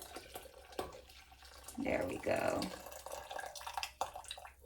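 Juice pouring quickly from a container, a liquid splashing and gurgling for about two seconds mid-clip, fairly close, with a person speaking briefly before and after.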